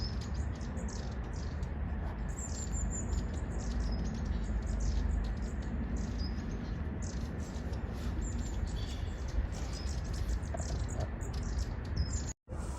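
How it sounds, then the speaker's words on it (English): Wild birds singing in a Belgian forest, with faint, scattered high chirps and tweets drifting over a steady outdoor hush. "the birds are flying just everywhere, just above us, just right next to us, and singing as if spring had come"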